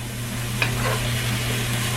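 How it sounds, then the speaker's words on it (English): Vegetables sautéing in a pan on medium-high heat for chili, a steady close sizzle with a single light spoon knock, no voices. "Just gonna get these all sauteed up here."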